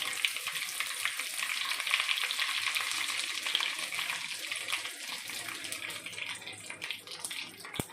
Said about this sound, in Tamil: கடுகு நல்லா வெடிச்சிருச்சு.